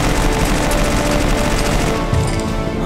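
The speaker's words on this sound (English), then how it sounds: "Shoot it in the eye!" Rapid gunfire rattles in a Bendy and the Dark Revival cartoon battle against a cartoon dog, a loud sustained burst of automatic shots, close and continuous.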